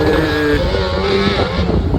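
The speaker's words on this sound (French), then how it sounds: "il y a du drift en quad là-bas" Quad bike drifting at a distance outdoors, a steady engine drone with shifting pitch under strong wind buffeting the microphone, continuous and moderately loud throughout.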